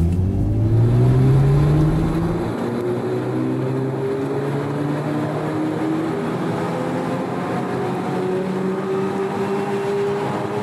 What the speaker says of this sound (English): So I'll press the gas pedal now,